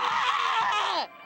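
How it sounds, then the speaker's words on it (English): Wooly, a character in the video game Amanda the Adventurer 2, lets out a single loud, shrill scream that holds steady for about a second, then bends downward and cuts off abruptly. "I love Wooly's scream."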